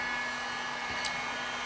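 Heat gun blowing hot air onto drywall joint compound, a steady loud whooshing airflow with no breaks throughout, like a hair dryer running continuously.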